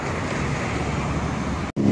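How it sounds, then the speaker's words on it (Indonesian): Steady roadside traffic noise next to a street, a continuous low wash of passing vehicles that cuts out briefly near the end before resuming. "Ini agak sedikit berisik-berisik ya, karena pinggir jalan."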